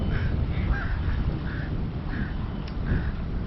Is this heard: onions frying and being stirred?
no